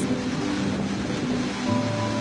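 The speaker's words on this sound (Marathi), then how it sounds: "घटप्रभा जेव्हा पूर्वेच्या दिशेनं वाहत येते तेव्हा वाटेतल्या एका घळईत कोसळते आणि तयार होतो गोकाक फॉल्स" Gokak Falls, where the Ghataprabha river plunges 171 feet into a gorge, gives a steady, dense roar of falling water heard from a distance, continuous and even with no voices.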